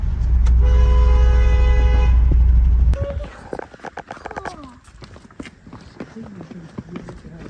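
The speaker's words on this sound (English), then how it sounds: "Honk the horn." A long, loud car horn blast sounds for a few seconds, then cuts off, followed by rustling and people talking.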